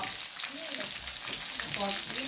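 Grasshoppers deep frying in hot oil, a steady close crackling sizzle with busy popping bubbles and faint background voices.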